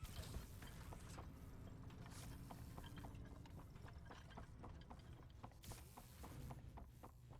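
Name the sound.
footsteps in Catnap horror video game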